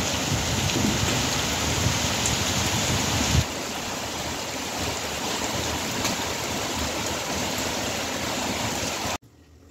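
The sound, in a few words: rain falling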